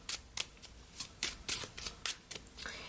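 Tarot cards shuffled by hand, heard as about ten rhythmic riffling bursts in quick succession, close and distinct against a quiet background.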